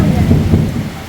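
Rumbling thunder rolls beneath steady heavy rain during a rainstorm outside a house, a continuous low roar that fills the short stretch with no voices.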